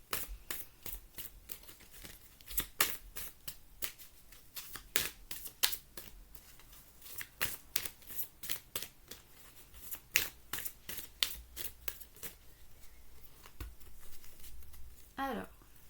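Tarot cards being shuffled and drawn by hand, a long run of soft crisp slaps and riffles in uneven clusters, close but quiet, ending with a short brushing sweep.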